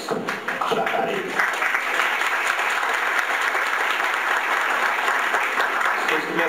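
An audience at a public hearing bursts into sustained applause, dense clapping that stays loud and steady for several seconds before easing slightly at the end.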